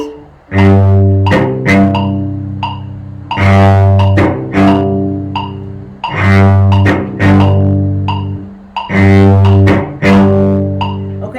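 A cello plays rhythmic chopped strokes with an up bow, each percussive scrape followed by a sustained bowed note, repeating in a steady pattern, loud and close.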